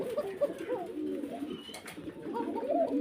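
Pigeons offered for sale with eggs and chicks coo softly and repeatedly nearby, a low warbling murmur that continues through, with faint voices in the background.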